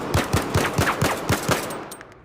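Rapid Glock 17 pistol shots on a VR video game shooting range, about eight sharp reports in a quick steady rhythm, loud and close, with no talking.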